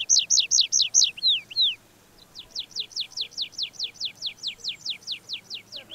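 Wild birds sing during outdoor bird watching. A quick burst of bright, repeated chirps is followed by a brief pause, then a longer, slightly softer series of evenly spaced rapid notes, all clear and close.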